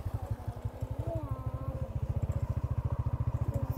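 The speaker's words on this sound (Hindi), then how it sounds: "बस मोटर चल रही है।" A motor runs in a village farm setting near a maize field with a fast, even thumping rhythm, close and steady throughout, with no voices over it.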